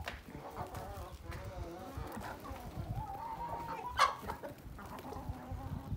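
Chickens cluck repeatedly around a village farmyard, a steady scatter of close and mid-distance calls with a louder squawk near the middle, mixed with background farm noise.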